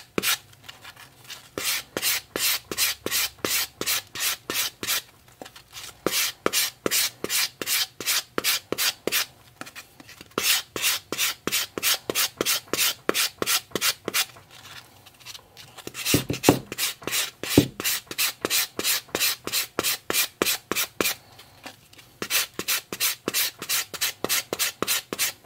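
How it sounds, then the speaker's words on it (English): A mixed media decoupage craft piece made with soft clay is distressed by hand, giving long runs of quick, rhythmic rasping rubbing strokes, close and loud, broken by short pauses and a few bumps. "I'm going to just distress a little bit more here"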